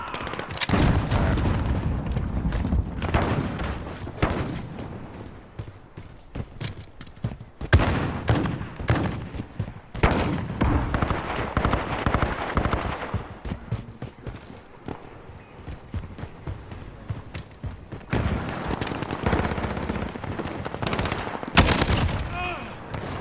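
A MARSOC SCAR rifle fires in Call of Duty Modern Warfare multiplayer, loud sharp bursts and rapid volleys come in clusters with short pauses across the stretch, alongside game effects and a voice talking at times.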